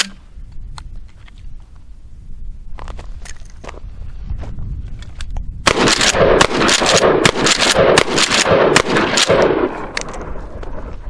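A pump shotgun, a Remington 870 or Mossberg 500, fires a run of Federal Shorty mini shotshells, giving loud sharp blasts in quick succession with mechanical clacks and shuffling before them.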